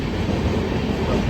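Steady rumble of a passenger train on the Mumbai to Solapur route running through the night, a continuous low clatter heard from inside the carriage with no voices.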